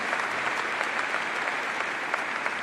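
Applause from a large conference hall audience at the AIPAC Policy Conference: sustained, dense clapping, steady in level, filling the space without voices on top.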